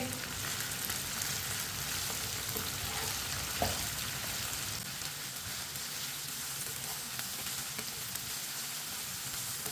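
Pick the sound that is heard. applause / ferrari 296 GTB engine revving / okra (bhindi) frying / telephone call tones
okra (bhindi) frying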